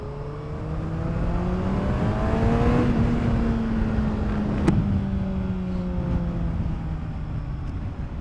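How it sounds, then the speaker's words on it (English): Radiator fan of a Honda CBR600RR motorcycle running after the engine overheats in city traffic, a steady droning whir with tonal hum that swells slightly and then settles, close and continuous with no talk. "after 103 or 4 degrees Celsius, the radiator kicks in, and that's pretty loud"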